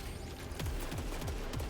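A ricochet hand cannon firing in the game Saros, several quick shots in a loose rhythm over a steady background, each with a short descending ring, moderately loud.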